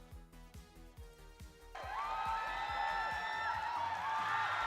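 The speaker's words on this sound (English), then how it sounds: "Give a little round of applause." Cheering and applause from a small group after a shared pick in a tabletop roleplaying stream, rising suddenly after quieter chatter with a steady background beat, then holding loud to the end with excited whoops.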